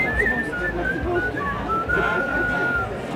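A person whistles a wavering tune, the melody drifting up and down over a low murmur of background noise.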